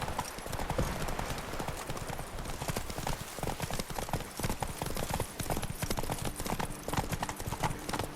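Geralt's horse Roach gallops in The Witcher 3, a steady rapid clip-clop of hooves running continuously and close, loud against the game's ambient background with no talk over it.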